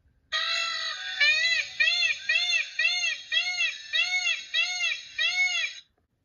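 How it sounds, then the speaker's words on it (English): A peacock calling loudly and alone in a run of about eight repeated, rising-and-falling honking wails, each a short separate burst in a steady rhythm after one longer opening cry. "A peacock goes."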